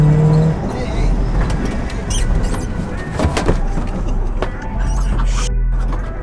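A bulletproof Cadillac Escalade rumbles on a test drive, its steady low engine and road noise filling the cabin, with brief squeaks and rattles and people talking over it.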